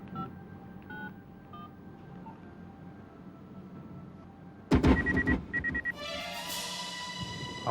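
A telephone number is dialed: a handful of soft DTMF keypad beeps over a low hum, then a louder burst of quick tones and a clatter as the call connects.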